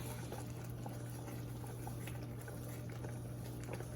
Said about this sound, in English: so now our bechamel is almost ready. As you can see, it's bubbling.